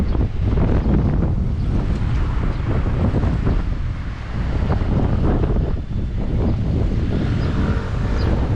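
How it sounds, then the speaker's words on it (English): Strong wind buffets the microphone on a street walk from Sliema to St Julian's, Malta, in a continuous loud rumble, gusting steadily with no talking. "it's a bit windy"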